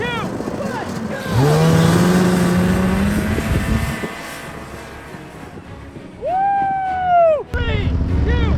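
An RC truck and a snowmobile drag race across snow, buzzing engine whines rising and falling in pitch, loud and close, with people talking and shouting over them.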